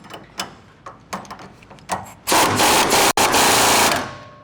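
Sway bar link bolts on a 2019+ RAM 1500 tightened with a socket: a run of sharp, spaced clicks builds into a loud, sustained, rapid mechanical rattle lasting a couple of seconds, close up with no voices.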